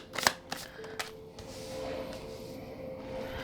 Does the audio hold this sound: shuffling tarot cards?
yes